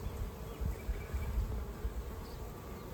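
Honeybees from two swarms caught the previous year buzzing around hive frames in a new bee yard, a steady low droning hum close by with no talk.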